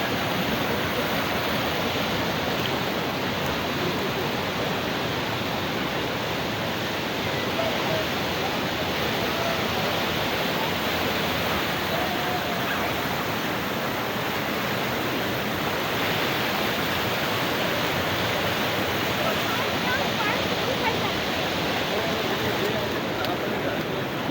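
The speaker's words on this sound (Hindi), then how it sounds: "पानी का फ्लो बहुत ज़्यादा है।" Fast-flowing river water near a bridge in Muzaffarabad rushes as a dense, constant roar, loud and close, with no break or variation across the whole stretch.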